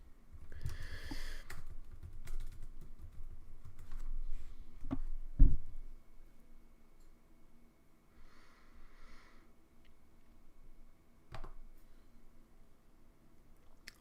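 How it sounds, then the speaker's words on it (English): Computer keyboard typing in short soft bursts, close and fairly quiet, with a few sharper clicks and thumps, entering a player's name during a Fantasy Premier League session. "I probably need to type in his first name."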